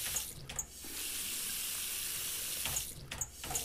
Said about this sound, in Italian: una padella la riempiamo di acqua, così siamo già a posto. E il rubinetto di quello, qual era questo?